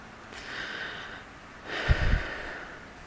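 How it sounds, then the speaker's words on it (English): A person breathes audibly close to the microphone, a long airy exhale followed by a louder snorting breath. "You can hear my breathing."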